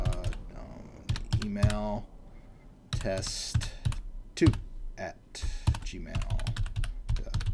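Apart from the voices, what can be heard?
typing on a computer keyboard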